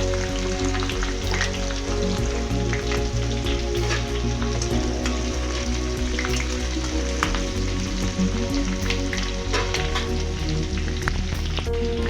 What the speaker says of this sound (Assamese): অকণমান এইটো অকণমান আদা নহৰু জলকীয়া অকণমান ফ্ৰাই কৰি ল'ব